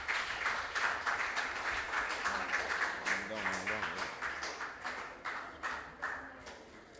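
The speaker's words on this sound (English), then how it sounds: "So let's give them a round of applause." Rhythmic, brisk applause from a school quiz-competition audience, close and steady, with a brief voice speaking over the claps midway.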